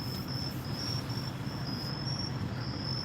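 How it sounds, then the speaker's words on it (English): Crickets chirp steadily in a repeating high pulsed trill, fairly close and continuous over a low background hum, with no talking. "You're getting hypnotized by the crickets."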